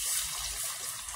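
Coconut milk poured into a cooking pot over a fire makes a short, close, steady liquid gush with no voices.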